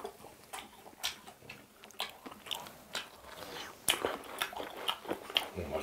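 Crunchy bites and chewing of BHC fried chicken and cheese snacks such as cheese balls and cheese sticks, close up and fairly quiet, with irregular crisp crackles scattered across a steady mouth-noise background.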